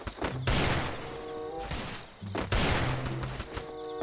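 Rapid bursts of gunfire from a mobile shooter game, Free Fire, two long volleys of loud, dense shots with brief pauses between, close and unbroken, no voices.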